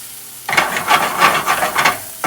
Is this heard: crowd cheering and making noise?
no